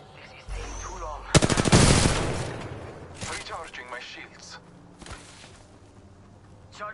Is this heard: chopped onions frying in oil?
no